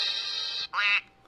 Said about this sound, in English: It always ends with a duck.